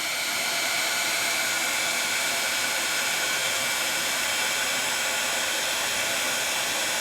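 A heat tool blows steadily at close range while melting layers of embossing powder. It makes an unbroken, even airy roar like a hair dryer, heard alone without pauses or voices.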